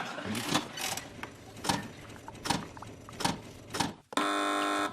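Several short mechanical bursts and clatters on a TV quiz show, then a loud sustained electronic buzzer tone that cuts in abruptly near the end.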